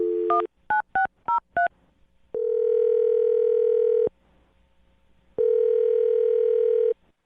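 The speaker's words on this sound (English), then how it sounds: "I'm going to dial her phone number right now" A telephone being dialed: a quick run of five touch-tone beeps, then a long steady ringback tone, a brief pause, and a second identical long tone, all loud and clean with no voices.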